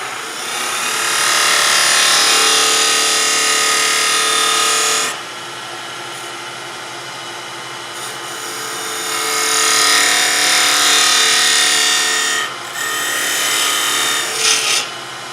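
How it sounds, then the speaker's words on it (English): A parting tool cuts into a spinning wooden lidded box on a lathe, giving a loud, raspy scraping in several long passes separated by quieter pauses, with no voices. "I'm going to use my parting tool first to increase that diameter"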